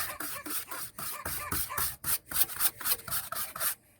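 Stiff brush scrubbing a tire coated with degreaser and red clay, quick rhythmic rasping strokes, about two per second, close and fairly loud.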